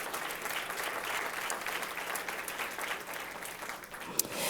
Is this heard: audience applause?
yes